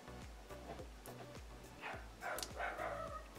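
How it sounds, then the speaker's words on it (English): A dog barks faintly in the background, a few muffled yips over a steady low rhythmic hum. "I can hear Luna barking"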